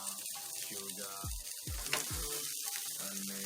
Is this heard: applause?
no